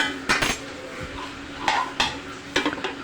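A village Bengali curry of beans, cauliflower, potato and tomato stirred in a pot, with close metallic scrapes and clinks spaced through a low background hiss.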